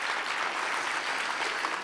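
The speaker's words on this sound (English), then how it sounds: "Go ahead, give yourselves a round of applause for that." Audience members clap for themselves in a steady, dense wash of applause that holds at an even level throughout, with no voices rising above it.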